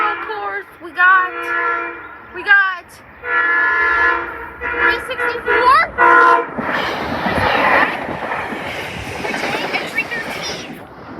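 A train horn sounds in long repeated blasts at Elkins on National Train Day, loud and close. The horn is followed by rolling rail noise as the train passes. Brief talk can be heard among the blasts.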